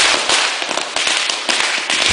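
Fireworks crackle and pop in rapid, dense bursts during a celebration over a kingdom, a loud, continuous barrage of sharp firecracker-like reports with no voices.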